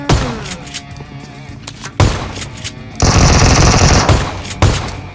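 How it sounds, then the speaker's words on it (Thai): Rapid automatic gunfire in the PUBG Mobile battle-royale game, loud bursts with sharp thumping shots, a dense sustained volley in the middle, close and dominant. "มันยิงเขา"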